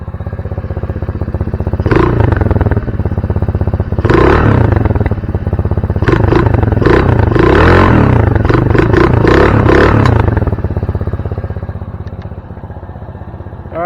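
A Honda Navi motorcycle engine runs close by, loud and steady throughout, with rough bursts of revving and mechanical clatter and no voices.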